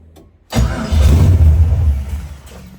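An LS-swapped BMW engine in need of a tune cranks, then catches and sputters loudly up close, running rough and uneven for a couple of seconds before settling slightly.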